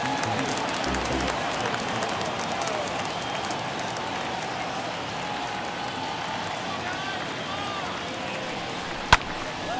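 Crowd at a Yankees–Blue Jays baseball game rising for a 3-2 count, a broad continuous roar of cheering and clapping under a commentator's voice, with one sharp crack near the end.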